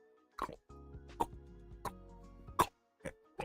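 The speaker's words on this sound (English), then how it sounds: "And you just heard her just gulp." A series of close, wet gulps swallowing beer from a can, about six distinct plopping swallows spaced roughly half a second apart with quiet in between.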